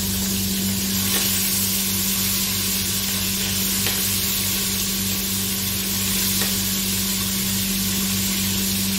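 Chicken for biryani sizzles steadily in a hot pan while a spoon scrapes and stirs it, a close, continuous frying hiss with faint clinks and no talk.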